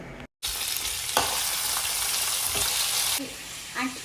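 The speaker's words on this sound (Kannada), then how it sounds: "ಒಂದು ಸ್ವಲ್ಪ ಒಗ್ಗರಣೆ ಮಾಡಿಕೊಂಡು ಆಮೇಲೆ ಎಲ್ಲದನ್ನು ರುಬ್ಕೋಬೇಕು" Oggarane tempering frying in hot oil for a ground gravy, a loud continuous sizzle with a brief break near the start and a soft clink toward the end, close by.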